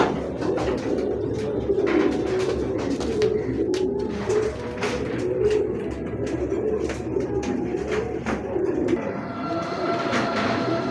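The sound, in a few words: pigeons cooing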